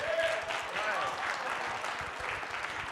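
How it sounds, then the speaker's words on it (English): Sustained crowd applause for activist Sister Monique Clesca at a Haitian Independence Day forum and rally, dense steady clapping filling the whole moment with a few voices mixed in. "give her another round of applause, another round of applause"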